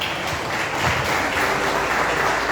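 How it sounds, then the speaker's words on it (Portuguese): A church congregation claps strongly during an evening service, a steady wash of many hands applauding without letting up. "Aplauda bem forte o nome do Senhor Jesus,"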